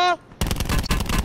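Rapid automatic gunfire bursts out loud and close in a Black Ops 4 Blackout ground-war match, following a brief electronic tone, with a voice briefly under the shots.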